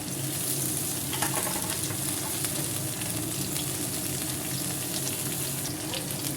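Chopped onion and finely cut coriander leaves sauté in a pan for a Tamil thokku, a dense, loud, continuous sizzle with light stirring scrapes and no speech.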